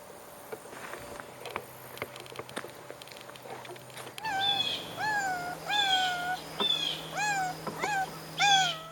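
A worried pet cat meows repeatedly in a crawl space beneath a house, a series of about six drawn-out rising-and-falling calls following several seconds of quiet with scattered clicks and knocks.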